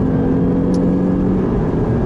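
A 2014 Lexus IS 350 engine in Sport Plus mode hums and whirs steadily under throttle from inside the cabin, a loud continuous drone with only slight changes in pitch.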